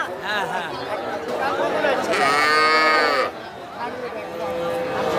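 A calf moos loudly in a long, drawn-out call amid a busy crowd of overlapping voices and market chatter.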